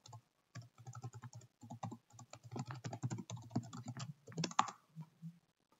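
A passphrase is typed on a computer keyboard in a steady run of quiet, close key clicks with short pauses between bursts.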